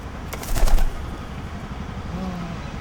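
A released pigeon takes off in a brief loud burst of wing flapping close by, then low background murmur follows.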